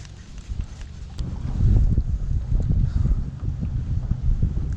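Wind blows outdoors on a fishing trip, a steady low rumble buffeting the microphone and swelling in gusts, loud and close, with no talk.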